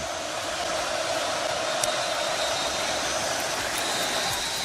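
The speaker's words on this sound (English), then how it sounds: "Crowd getting loud on 3rd and 13." A packed college football stadium roars at Oregon's home game against Oklahoma State on a third-and-13 play: a dense, loud, steady wall of crowd noise that never lets up, with no talk over it.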